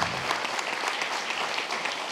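A conference hall audience at a closing plenary session applauds warmly, dense sustained clapping throughout at an even level.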